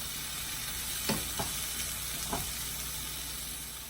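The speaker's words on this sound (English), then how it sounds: "And I'll let this cook until the vegetables are soft, until the peppers are soft." Peppers and vegetables sizzling in a pan with sausage, a steady soft frying hiss throughout with a few brief clinks or stirring scrapes around the middle.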